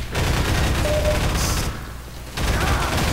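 Automated turrets firing in Half-Life 2 co-op, loud sustained bursts of rapid gunfire that drop out briefly mid-way and then resume, with no voices.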